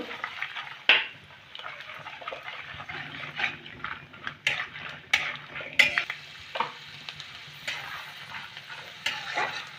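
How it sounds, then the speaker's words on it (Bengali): Peanuts frying in hot mustard oil in a wok, a steady crackling sizzle broken by sharp spatula scrapes and stirring clinks, close and fairly loud with no voices. "তেলটা গরম হয়ে গেছে, এবার বাদামগুলো ভেজে নেব"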